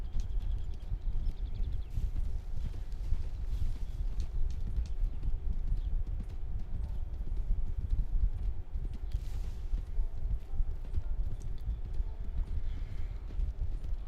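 Horse hooves clip-clop in a steady, continuous walking rhythm in the video game Red Dead Redemption, with a low rumbling ambience beneath and no talk.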